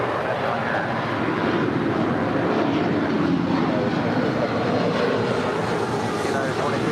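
A jet airplane taking off from runway 25 Right at LAX, a steady broad roar of engine noise holding continuously throughout, with voices talking over it.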